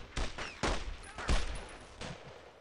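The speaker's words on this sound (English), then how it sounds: "We're under fire." Bursts of gunfire from the video game Brothers in Arms, roughly four sharp volleys spaced under a second apart, loud and close, with faint speech underneath.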